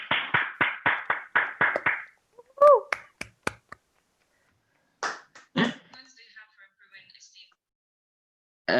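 A handful of sharp claps and snaps land in a quick burst during an online meeting, followed by sparse scattered taps and brief vocal sounds, with quiet gaps between.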